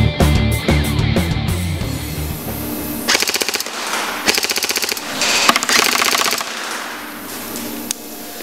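A G&G Top Tech M4 Lite airsoft rifle fires 0.28g BBs in rapid bursts, loud mechanical full-auto chatter in several strings separated by short pauses, with no talking.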